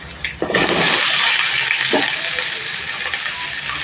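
Pumpkin, potato and jackfruit seeds drop into hot oil in a pan with cracked chillies, bursting into a loud, close sizzle that keeps hissing steadily and slowly eases.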